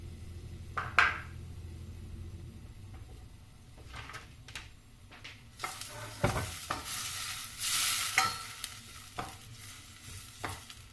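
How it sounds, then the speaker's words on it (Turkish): Spices sizzling and being stirred in a hot pot as the base for a milky mushroom soup, with scraping spoon strokes, short clatters and a louder burst of frying partway through. "Ben kavurmaya devam ediyorum."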